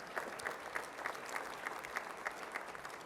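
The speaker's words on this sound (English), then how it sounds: "Can we give them a big round of applause?" A luncheon audience at a scouting award event claps together in steady, moderately distant applause with a rhythmic patter of hands, no voices on top.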